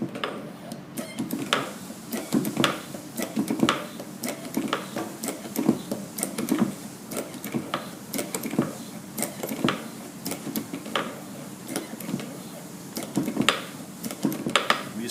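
A 2-inch MetFit fitting is hand-pumped onto a hose with a steady series of sharp metallic clicks and ticks, close up and repeating over a soft background with no talk.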